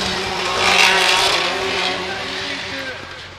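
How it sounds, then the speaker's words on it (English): A Nissan VR38-engined drift car during qualifying at Formula Drift Japan in Ebisu, a loud engine roar that rises and falls with tire noise, with a commentator talking over it. "Look at the sound of that VR38 right there"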